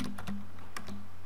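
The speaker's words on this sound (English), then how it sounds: "you go to start and then just type device" A few quick keystrokes tapped on a computer keyboard by someone searching for Device Manager on a PC, set over a steady low electrical hum.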